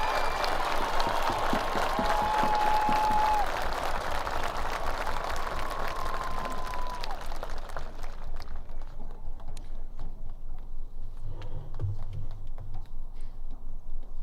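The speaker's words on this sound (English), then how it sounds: "Please join me in a round of applause." Dense clapping from a crowd at the 2022 Canyon Lake High School graduation ceremony, loud and sustained for about seven seconds, then thinning out into faint scattered claps.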